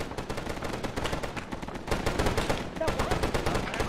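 Rapid gunfire and artillery rumble in the Vietnam-era setting of Arma 3, a dense run of sharp reports and booming thumps at moderate distance, with a voice speaking over parts of it.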